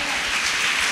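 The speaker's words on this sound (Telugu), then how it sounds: "గట్టిగా చప్పట్లు" A church congregation at a Holy Communion Sunday service claps loudly, forming a dense, continuous wash of applause in one brief burst.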